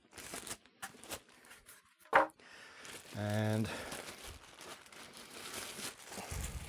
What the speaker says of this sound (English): I'll get this polystyrene out of the way before it makes even more noise